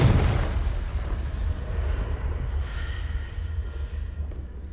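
A Confringo spell blast in Hogwarts Legacy, a sudden booming explosion that opens loud and rumbles away over several seconds, heard alone.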